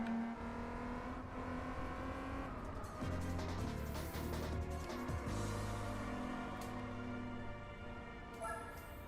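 A Gran Turismo 4 Spec II race car with a VQ engine drones steadily and close, its tone dropping and climbing again through gear changes, with no voices over it.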